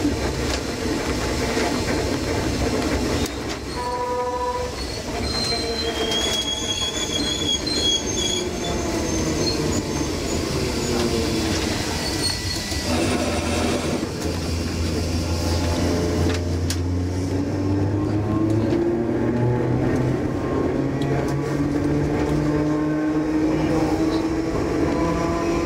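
An Enoden 1000 series train pulls into a platform on the line between Enoshima and Kamakura-Kōkōmae, its wheels squealing loudly and continuously over rumbling, clattering running noise up close.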